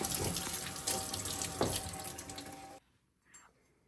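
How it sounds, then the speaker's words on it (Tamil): Running tap water pours over a pineapple being washed in a kitchen sink, a steady close splashing rush that stops abruptly, followed by a faint brief trickle. "அன்னாசி பழத்தை நல்லா முதல் கழுவோம்"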